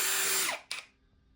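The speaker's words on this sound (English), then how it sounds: "we're going to drill straight through those 2 pilot holes that we drilled." A power drill with a 5/32 inch bit bores through a plastic motorcycle fork guard bracket, a loud high whine winding down within half a second, then a brief second burst that fades.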